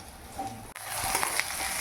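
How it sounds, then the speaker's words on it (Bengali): Onions frying red in hot oil for a Bengali fish curry with potato and drumstick, a steady close sizzle that thickens after a brief pause. "এখন দেখো, মাছের ঝোল হবে সেজন্য পেঁয়াজগুলোকে ভেজে নিচ্ছে লাল লাল করে।"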